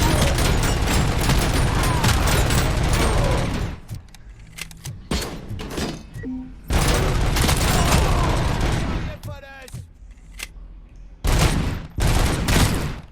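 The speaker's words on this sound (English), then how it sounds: "I'm just gonna shoot him a couple more times, make sure he knows he's dead" Rapid bursts of gunfire from the RoboCop: Rogue City video game ring out loud and close in three long volleys, separated by brief quieter gaps with faint mechanical clicks.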